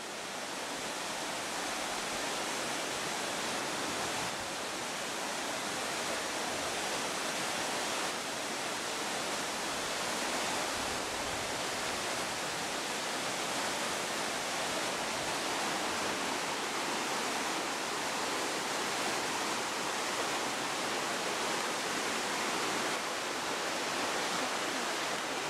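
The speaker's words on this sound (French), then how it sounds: "et là elle tombe encore en cascade." The Neda waterfall in the Peloponnese cascades in a constant, loud, hissing roar of falling water, steady and unbroken with no talking.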